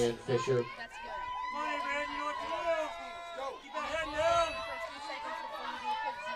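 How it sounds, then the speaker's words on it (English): Large crowd murmuring at a softball regional final, a steady babble of many voices in the stands beneath a close announcer speaking over it. "It is a huge crowd here at Clyde tonight."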